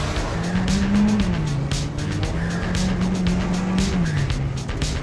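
Peugeot 205 Turbo 16 Evo, a 1980s rally car, sliding sideways with its tires squealing in long wavering tones over the loud engine roar, close up.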